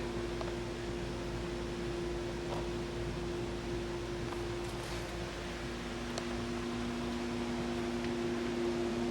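A Quincy Model 325 air compressor's lower end runs on a test, with a hydraulic unloader, producing a constant, even mechanical hum and whir that holds unchanged throughout.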